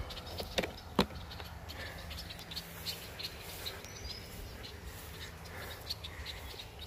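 Birds chirping outdoors, scattered faint tweets and sharp calls at a distance over a low steady background hum, with a few soft knocks.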